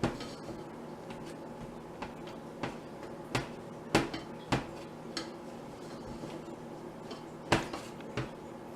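A spoon stirs melting chips in a pot, making soft scrapes and a steady run of light taps and clinks against the metal, quiet and close.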